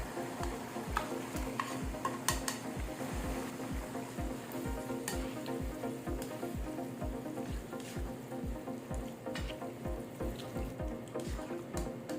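Marinated chicken liver goes into a simmering chicken gizzard sauce with lemon, giving a soft bubbling sizzle under a steady, rhythmic series of stirring or scraping strokes, close and moderately loud.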